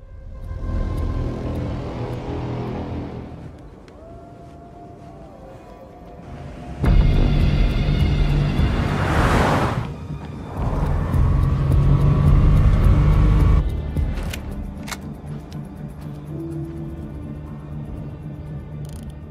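Several cars speed toward a ranch, engines swelling from a low rumble into a loud, close roar with a sharp whoosh as one passes, then fading with mechanical clatter.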